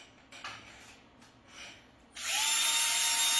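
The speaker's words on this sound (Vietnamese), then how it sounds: "khi các bạn bật cái máy khoan này lên" An electric drill switches on partway through, its motor jumping straight to a loud, steady high whine after a few quiet rustles and handling bumps.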